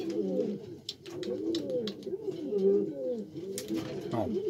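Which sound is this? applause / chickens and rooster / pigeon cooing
pigeon cooing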